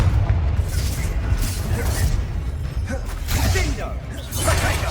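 Confringo fire spell blasts in Hogwarts Legacy, a dense series of booming explosions and crackling bursts with whooshing magic effects over a constant loud game mix.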